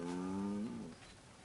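A cow in the video game Assassin's Creed 3 gives a single low, drawn-out moo that sags in pitch and trails off, fairly quiet against a faint background hiss, with no talking.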